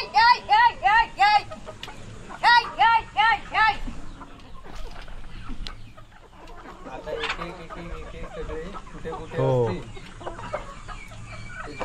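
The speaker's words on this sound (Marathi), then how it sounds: "ते सगळे कोंबड्या बघा एक एक करून येतात इकडे" Chickens on a poultry farm cluck and call close by. A run of loud, repeated rhythmic clucks at the start gives way to scattered softer clucking while a person talks over them.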